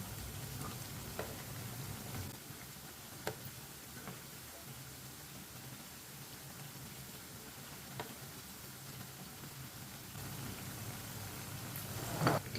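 Tikki patties frying in hot oil in a pan, a steady low sizzle with faint crackles and occasional pops running evenly throughout, soft and close with no talking.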